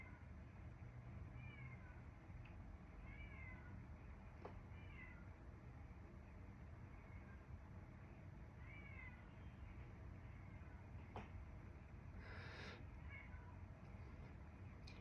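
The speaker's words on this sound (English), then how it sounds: "there's like a cat meowing his head off." A cat meows repeatedly at a distance, the calls spaced out over steady background noise.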